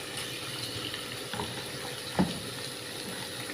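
Masala-coated squid frying in a thin layer of oil, with a steady soft sizzle running throughout and one brief clatter midway, no voices.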